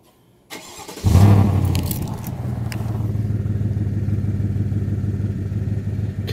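Cold start of a 2023 Chevrolet Silverado RST fitted with a Magnaflow exhaust: starter crank, a loud flaring burst as the engine fires, then a steady rumbling idle close by.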